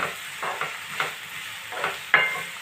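Green chillies and cashews fry in a pan with a constant close sizzle, punctuated by periodic scraping stirs of a spoon, no speech.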